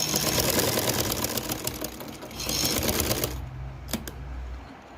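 Electric sewing machine stitching shiny fabric for a dress, a steady motorized whir that runs for over three seconds, then stops, leaving a few faint clicks of handling.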